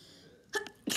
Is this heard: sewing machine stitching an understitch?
no